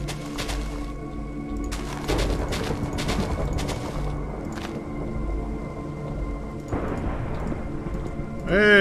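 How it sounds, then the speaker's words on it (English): A thunderstorm rolls in with steady rain pattering on surfaces and several cracks and rumbles of thunder, loud and broadband, building again near the end. "Hey, thunderstorm came in."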